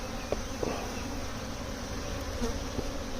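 Bees from a spring swarm drone in a steady, moderately loud hum while being transferred into a Layens hive, with a few nearer bees buzzing briefly over the constant swarm sound.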